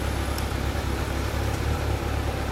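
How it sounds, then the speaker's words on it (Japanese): A 2011 Kawasaki Ninja 250R fitted with a BEET Japan exhaust idles steadily, a continuous low throb with a faint high whine, nearby and alone without talk. "エンジン音聞かせてもらえるかな"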